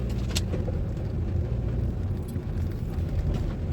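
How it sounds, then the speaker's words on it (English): Road traffic rumbles past steadily near a street where tree trimming is under way, a continuous low engine drone with no clear pauses and no talking. "we've got some traffic going on here"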